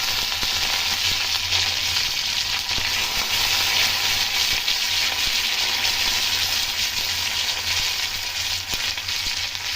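Mustard seeds and curry leaves sizzle in hot mustard oil as a tempering, a loud, steady hissing fry that runs unbroken and close throughout with no voices.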